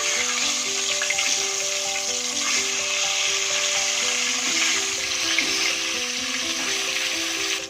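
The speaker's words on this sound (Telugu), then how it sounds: "ఈ ఎగ్స్ కొంచెం వేగాయి కదండి" Eggs frying in hot oil seasoned with turmeric and salt, cooked for a dry prawns, eggs and drumstick curry; a steady, even sizzle runs the whole time with a faint tonal hum underneath.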